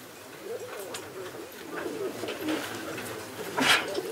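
Pigeons in Diyarbakır, kept as a hobby, coo softly in a low, murmuring run of calls over faint background noise.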